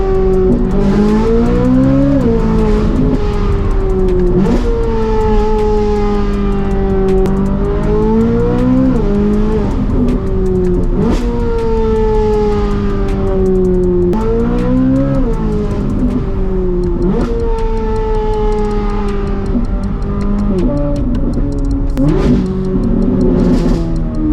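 A car engine runs loud and close throughout, revving up and easing off repeatedly as it pulls away through several gear changes, with no voices.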